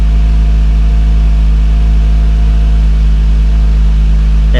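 A G35/350Z fitted with a titanium exhaust idles steadily and loud up close, a constant deep low rumble with no change in pitch and no voices.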